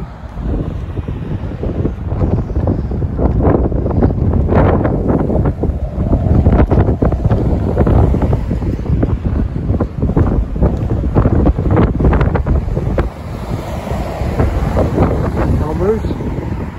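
Strong wind buffets the microphone on a walk across the Tamar suspension bridge, a loud continuous roar with gusty swells and dips throughout, and someone talks faintly beneath it.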